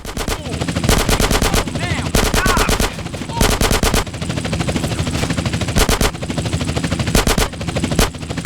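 Machine gun fire in the video game GTA San Andreas: loud, rapid bursts of automatic shots repeat back to back with brief gaps, dense and close, over continuous game noise.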